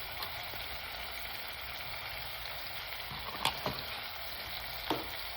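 Garlic frying with onions in a pan, a faint continuous sizzle with a few brief stirring clicks and scrapes near the end, with no talking.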